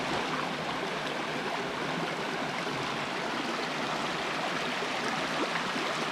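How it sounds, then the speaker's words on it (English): Small waterfall and stream beside a hiking trail in Coopers Rock State Forest, a steady, full rush of falling and flowing water heard close up without pause and with no voices. "there's also this pretty waterfall, small waterfall and stream around here as well."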